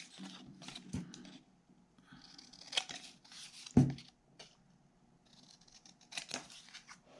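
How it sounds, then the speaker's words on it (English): Scissors trimming paper card for a small craft file folder, a series of crisp close snips spread irregularly, with light paper rustling and handling between cuts. "And now I'll bring in my scissors, and I'm just going to trim on the inside of the marks that I made."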